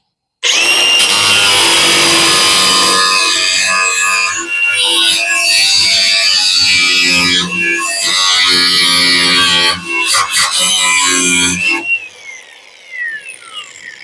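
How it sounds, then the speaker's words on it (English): A power nibbler cuts out the pinch-welded joint between the filler panel and quarter panel on a 1965 Ford Mustang, a loud harsh continuous chattering grind up close that stops abruptly near the end, leaving faint clinks. "Nibble some of that joint out of there."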